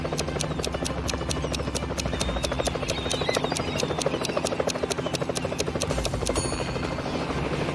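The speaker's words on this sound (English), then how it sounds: "Today, Steve's flying in a helicopter over the pool to check the situation." Animated helicopter flying over a pool, a steady close rotor chop with rapid regular beats and an even engine hum throughout, no voices.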